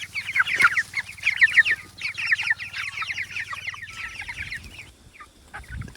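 A group of chickens clucks and chatters in a netted-off outdoor area, with many overlapping calls close by that fade toward the end over a low background hum.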